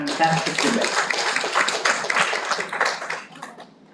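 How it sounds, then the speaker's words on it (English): Audience applause for two teams at the close of an HR debate quarter final, a dense, steady wash of clapping hands that fades slightly toward the end. "let's give both teams a huge round of applause for a fantastic debate"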